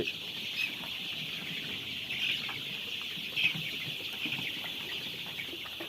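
Sonali chicken chicks at a poultry farm peep and chirp continuously in a shed, a steady high-pitched chorus of many birds with a few brief louder calls standing out, moderately quiet.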